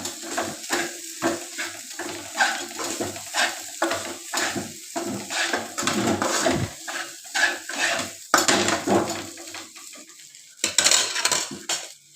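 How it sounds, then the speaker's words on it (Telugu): A utensil stirs egg rice in a pan with repeated scraping and clinking strokes in an irregular rhythm, close by. A soft sizzle of frying runs underneath. "ఇట్లా కొద్దిగా వేసుకుంటూ కలుపుకుంటుండాలి, మాడంటకుండా."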